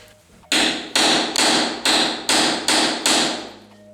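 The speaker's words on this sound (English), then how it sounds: "I'm just using that to go through, gently tapping it." Seven sharp metallic hammer strikes on a punch driving a sheared-off fin shank bolt out of a pinball playfield, evenly spaced about half a second apart, loud and close with brief ringing decay after each blow.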